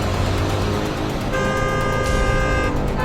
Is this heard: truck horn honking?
yes